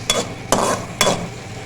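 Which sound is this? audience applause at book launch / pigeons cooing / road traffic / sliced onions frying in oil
sliced onions frying in oil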